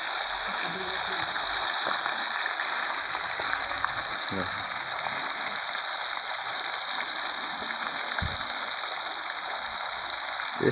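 Fish sizzling as it fries in oil on a wood-burning stove, a steady close crackling hiss with scattered small pops and no talk.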